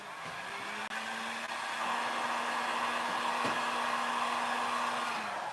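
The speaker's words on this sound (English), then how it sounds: "you're working with a heat gun, you don't want to burn your mirror" A heat gun blows steadily while warming material on a mirror during an upcycling job, a constant airy roar with a low hum, a couple of faint clicks and no talk.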